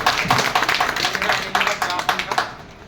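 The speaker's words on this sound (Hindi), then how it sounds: "तो सभी के लिए एक बार तालियां" A crowd applauds with dense, steady clapping that continues throughout, fairly close and loud.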